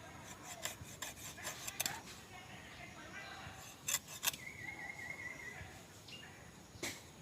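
Vegetables are cut by hand from plants in a village field: faint rasping and rubbing strokes with scattered sharp snaps, close by and quiet.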